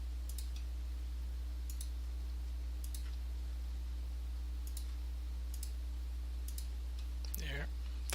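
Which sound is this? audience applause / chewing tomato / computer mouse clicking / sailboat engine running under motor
computer mouse clicking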